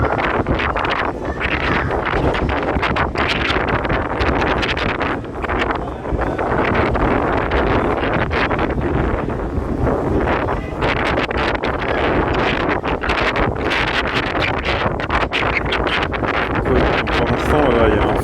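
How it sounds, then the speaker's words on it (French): Strong, steady wind buffets the microphone at an outdoor sports ground, a continuous loud roar and rumble that persists throughout with no pauses. "Fort vent qui est présent"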